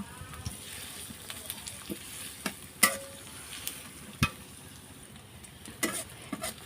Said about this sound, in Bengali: এখন আমি দিয়ে দিলাম পেঁয়াজ কুচি পেঁয়াজটা আমি দুই তিন মিনিটের মতন ভেজে নেব